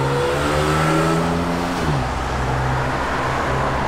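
A 1970 Dodge Super Bee driving on the road, engine note close and loud, pitch falling sharply as it lets off, then settling into a steady lower rumble.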